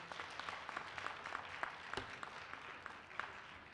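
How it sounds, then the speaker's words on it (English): Town meeting attendees clap in a hall, a faint, steady patter of many hands from some distance, with no voices over it. "I would ask that you refrain from clapping"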